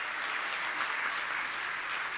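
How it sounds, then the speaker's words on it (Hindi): A school audience applauds children about to perform in an orchestra at Rana Pratap Sarvodaya Vidyalaya, a Delhi government school, with a steady, dense wash of many hands clapping at once that holds evenly throughout. "तो तालियां जब तक ये बच्चे शुरू हों हम लोगों की बजती रहे इनके सम्मान में।"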